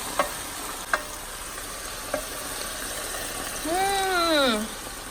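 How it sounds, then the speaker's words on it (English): White wine cooking off in a pan with onion, garlic, celery and fennel, a soft, steady sizzle with a few utensil clicks near the start, then a voice rising over the sizzle toward the end. "we'll cook the wine off till it evaporates"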